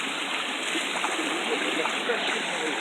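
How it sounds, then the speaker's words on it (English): Fresh mountain water runs in a stream through a rainforest, crossing a small river on family land. It makes a constant, close rushing and splashing wash that stays steady for the whole stretch, with no voices over it. "See the water coming? Fresh water from the mountains."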